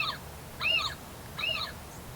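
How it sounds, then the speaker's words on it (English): Owl calls out in a garden setting, two distinct hooting calls spaced under a second apart, moderately faint against a low steady background with no talking. "The owl is gonna miss me."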